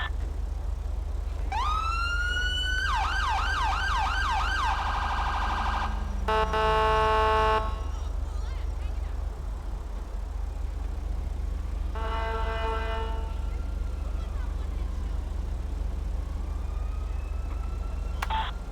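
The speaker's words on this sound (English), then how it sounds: "Do your high beams and your siren, your air horn, and your chirp." A video game police car siren wails through several rising and falling sweeps, then switches to rapid yelping and short electronic chirps, steady and fairly close over a constant engine rumble.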